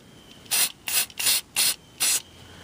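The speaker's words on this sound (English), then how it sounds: "I'm going to go ahead and spray paint you know, the lock washers and the bolt heads again" An aerosol can of combined primer and paint sprays lock washers and bolt heads during leaf spring installation on a 1966 Ford Thunderbird, five short, loud hissing bursts in an even rhythm with quiet gaps between.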